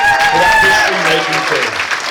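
Applause for a history-making football team, FA Cup quarter-finalists for the first time since 1939, at a club's 2022/23 Player of the Year awards night, building under a voice announcing over a microphone.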